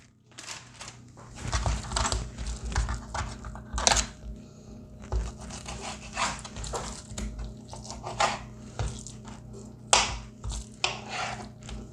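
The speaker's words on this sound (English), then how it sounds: "I'm just going to cut it into 4 portions." A knife cutting a store-bought ham steak into four portions on a board, with repeated close slicing and crunching strokes at an uneven rhythm.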